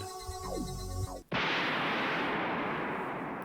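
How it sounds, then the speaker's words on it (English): Within a Higurashi visual novel scene, a tonal musical passage cuts off abruptly and a loud, sudden explosion bursts in, followed by a long sustained rumbling roar that slowly tapers over the remaining seconds. "An explosion shook the air."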